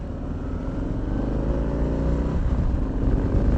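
A motorcycle rolls along a back road with a steady engine drone and slight pitch rise as it picks up speed, heard loud and close from the rider's position with wind noise.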